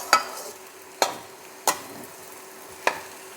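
Sago cooking in a pan and being stirred with a utensil: four separate sharp scrapes and knocks against the pan, spaced irregularly, over a quiet low background.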